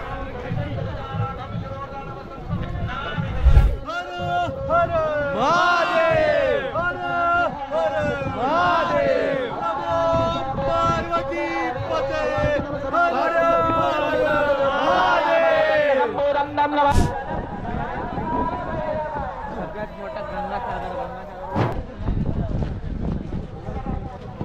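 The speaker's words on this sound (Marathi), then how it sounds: "गर्दी खूप आहे, गर्दी।" A large, noisy crowd gathers at the Jagadishwar temple on Raigad fort during the coronation celebration, with excited shouting, chanting and overlapping voices close by throughout, a few sharp knocks cutting through.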